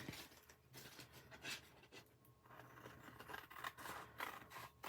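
Paper snips cut through plastic wrap in quiet, uneven snipping and crinkling strokes, close up, with no talking.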